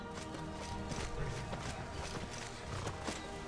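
Quick, rhythmic horse hooves clip-clopping at a steady trot in a role-playing video game, moderately close over a low background; no speech.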